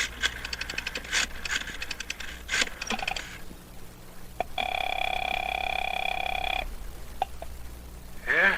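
Rapid mechanical clicks of a rotary phone dial, then a steady tone, followed by more clicks and a brief rising beep, all fairly close.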